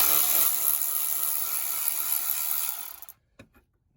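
An electric ratchet whirs steadily while spinning bolts off a 1995 Plymouth Voyager wheel hub, then cuts off abruptly, leaving near silence broken by one brief metallic click.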